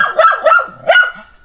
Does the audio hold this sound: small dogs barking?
yes